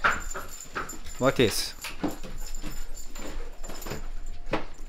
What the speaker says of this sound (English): the dogs just started going bonkers upstairs